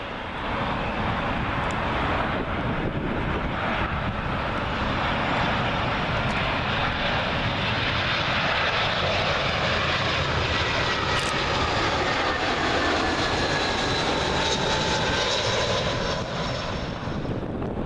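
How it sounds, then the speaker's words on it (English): A British Airways Airbus A319 arriving from Vienna passes low over Myrtle Avenue on approach to Heathrow runway 27L, a loud, sustained jet roar that fills the whole stretch, swelling slightly then holding steady, with no voices. "Airbus A319 for British Airways, arriving in from Vienna."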